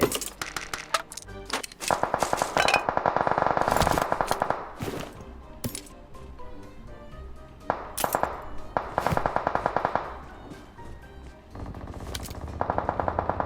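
Automatic gunfire rattles in PUBG Mobile on the fog-covered Sanhok map: loud rapid bursts of close shots in several separate volleys, with short pauses between them and some lighter clicking in the gaps.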